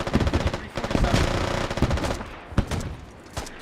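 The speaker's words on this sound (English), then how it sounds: "A lot of gunfire ahead of him, so Fuzzball switches to his HE frag RPG" Rapid bursts of automatic gunfire crackle in a military team video game, dense overlapping shots loud and close, with a few heavier single reports mixed in.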